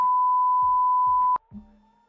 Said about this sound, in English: Please beep this out